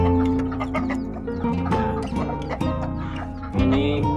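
A flock of hens clucking and cackling nearby, with overlapping calls and a louder squawk near the end.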